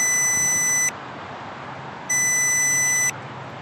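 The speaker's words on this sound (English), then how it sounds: "And the transmitter starts beeping." A Potensic D60 GPS drone's transmitter gives two long electronic beeps, high and steady, separated by a pause, over a constant hissing background hum.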